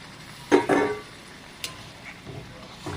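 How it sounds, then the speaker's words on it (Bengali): Water poured into a pot of beef and chana dal curry, giving two brief splashing, sizzling bursts close by, followed by quieter faint clatter from the pan. "এবার আমি ঝোলের পানি দিয়ে দেবো।"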